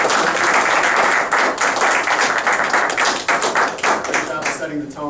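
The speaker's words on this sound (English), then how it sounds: "if we could give Linda a big round of applause" A Toastmasters meeting audience gives a long, dense round of applause, many hands clapping steadily and loudly close by for about five seconds, tapering slightly near the end.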